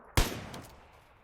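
A single sharp gunshot in the online shooter PUBG Lite, a loud close crack with a short echoing tail that fades away over about a second, with no other shots.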